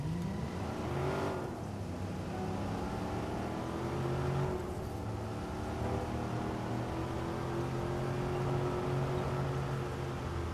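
Car engine in the Watch Dogs video game droning steadily with a clear rising rev early on, then holding a sustained tone as the vehicle keeps driving, loud and continuous with no talk.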